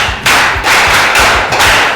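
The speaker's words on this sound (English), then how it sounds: "Say clap for her." An audience claps together in a close, loud burst of overlapping hand claps, a few rhythmic surges across a couple of seconds with no talk over it.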